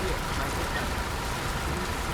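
Steady heavy rain drumming on a Scania Interlink HD coach, a dense constant hiss filling the cabin, loud and close with no break.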